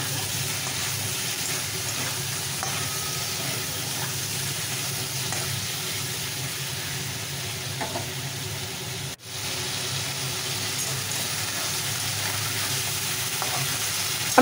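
Chicken pieces fry slowly on low heat in a pan with no water added, a soft, even sizzle close by with a brief dip partway through.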